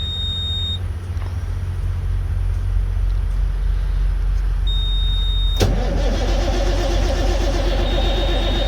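A semi truck that ran out of fuel is started after its fuel system cycles: a steady idle-like hum and faint beeping give way to a sudden engine catch and a louder, rough running rumble for the final seconds.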